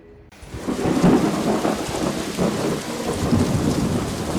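Heavy rain pouring steadily with a deep rolling rumble of thunder, loud and close, a dense continuous wash with no voices.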